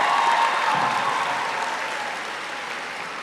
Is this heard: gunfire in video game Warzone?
no